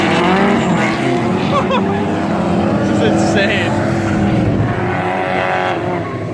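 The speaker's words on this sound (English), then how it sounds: "There's literally like 10 cars on track right now." Several drift cars run on a track at a night drift event, engines roaring loudly and tires skidding continuously, with excited voices talking over the noise.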